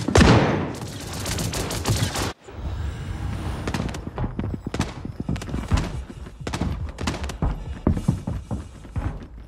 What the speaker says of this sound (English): So I don't know what this gun's going to do until I fire it.